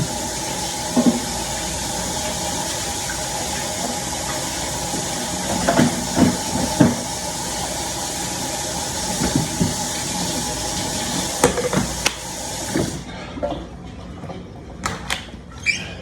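Running water rinsing blood off largemouth bass fillets, a steady broadband hiss with occasional clinks and splashes, easing off near the end.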